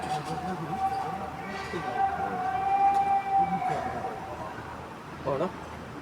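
Ambulance siren pulling away from an NDRF emergency rescue demonstration at an NTPC industrial site, a steady wailing tone holding at moderate level with voices murmuring in the background.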